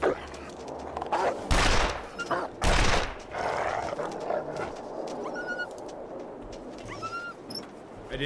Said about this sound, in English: I didn't mean to shoot.